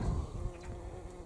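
A small bee buzzes close among gooseberry flowers on a garden allotment, a steady, near droning hum with no voices.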